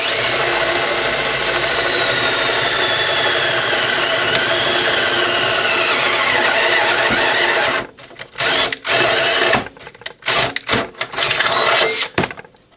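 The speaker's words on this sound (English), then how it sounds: "drill a hole" A power drill bores a hole through metal for a car seat bracket, running loud and continuous for several seconds, then stopping and restarting in short bursts.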